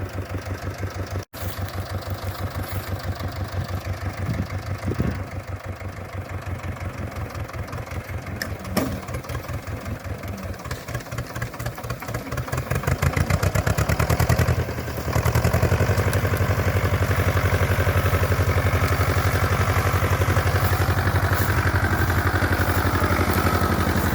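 An Ursus C-330 tractor engine idles nearby with a steady low knocking chug, then revs up louder partway through and holds a higher, rougher drone.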